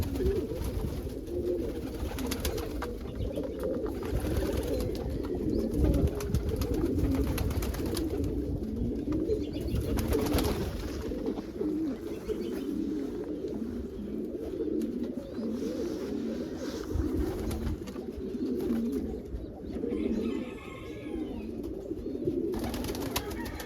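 Pigeons coo steadily in low, rounded notes throughout, with several frost stencil birds, likely a mix of patterns, calling together over a constant windy background on a blustery morning.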